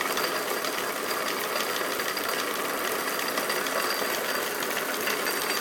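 A Toyota Prius transaxle MG2 electric motor, shell open and run at 24 volts, spins at high speed with a steady, dense whir and hum that holds constant throughout, close and fairly loud.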